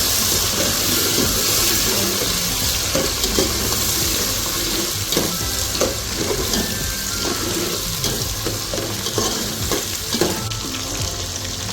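Shallots and garlic frying with mustard seeds and fenugreek for vatha kulambu, a loud continuous crackling sizzle with frequent spatula scrapes and stirring knocks throughout.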